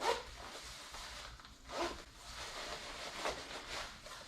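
A zipper on an Alpinestars Andes V3 adventure motorcycle suit is pulled several times in quick, soft strokes, close by and fairly quiet, with faint rustling of heavy fabric between pulls.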